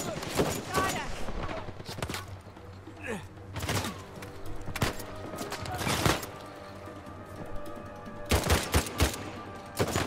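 Bursts of gunfire from a combat firefight in Uncharted 4 land in loud, close volleys of rapid shots separated by short lulls, with people talking over the shooting.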